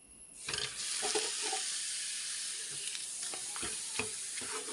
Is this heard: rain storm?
no